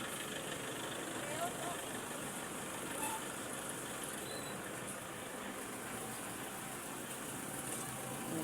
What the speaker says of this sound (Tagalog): Traffic dito guys.